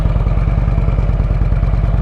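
A Harley motorcycle engine idles and rumbles steadily as the bike rolls out of a carport, close and loud with a rapid even pulse throughout.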